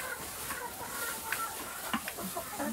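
Hens scratching and playing in the straw litter inside a greenhouse tunnel coop, with soft clucks and brief rustles over steady barn ambience.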